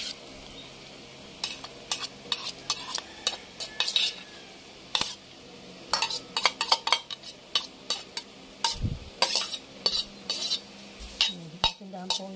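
Spoon stirring a sticky sumang gabi (taro rice cake) mixture in a pot, giving a run of close, irregular scraping clinks against the metal that grow busier partway through, with little else heard.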